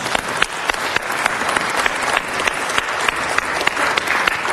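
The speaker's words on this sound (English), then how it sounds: "Let's give them another round of applause," A crowd at a Los Angeles city council meeting claps in a dense, even round of applause, loud and close, with sharper individual claps standing out throughout.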